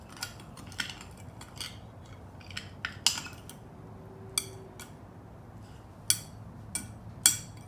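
A spoon stirring sweet chutney in a bowl, giving light, irregular clinks and scrapes of metal against the dish, close and distinct over a quiet background.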